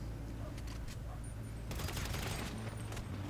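Gunfire in a GTA V Online mission shoot-out in an alley, a dense steady fusillade of shots with a sharp burst of heavier firing in the second half over constant game background noise.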